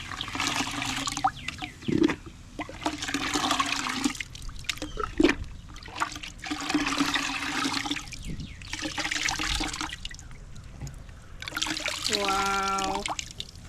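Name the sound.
water overflowing a bowl while rinsing shells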